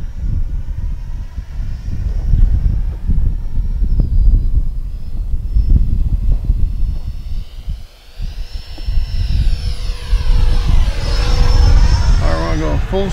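An FMS Futura 64 RC model jet flies at full speed with the wind, its ducted-fan whine sweeping past and rising in pitch, heard through gusty microphone wind noise while people talk nearby.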